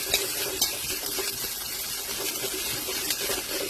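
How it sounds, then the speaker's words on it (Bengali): Onion, potato and Maggi masala frying in a pan, giving a steady, dense sizzle with faint scraping or stirring noises throughout, no voices. "তখন আমি ভালো করে পেঁয়াজ আর আলু আর ম্যাগি মশলাটাকে ভেজে নেব।"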